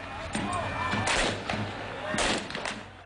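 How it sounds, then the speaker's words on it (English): Fireworks go off over the walls of El Ittihadiyya Palace during a violent Cairo protest, with two loud bursts among crowd noise and scattered thumps. "A young man shoots fireworks over the walls of the palace"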